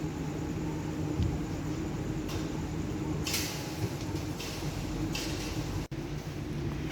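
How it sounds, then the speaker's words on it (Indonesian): KRL commuter trains idling at Cikarang station before dawn, a steady low engine and electrical hum with broadband rumble, occasional hissing bursts and faint clanks, fairly quiet throughout. "Ada beberapa rangkaian KRL yang idle menunggu pemberangkatan"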